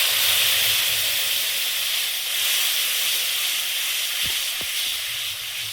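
Dissolved spice paste hits hot oil in a pan and sizzles with a steady bright hiss, punctuated near the end by a couple of brief clicks and taps from cookware.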